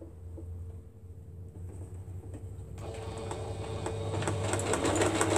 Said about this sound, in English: I should be getting where I was sewing